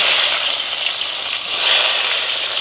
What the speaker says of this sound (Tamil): உங்களுக்கு வெங்காயம் பச்சை மிளகாய் அப்படியே வதங்கி கொண்டு வந்துட்டுது